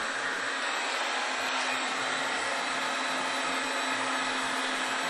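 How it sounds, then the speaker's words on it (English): A heat gun shrinks heat-shrink tubing over chrome braid on front-wheel lighting wiring. Its steady, loud blower roar runs unbroken and alone from start to finish. "my heat gun, and shrink that down"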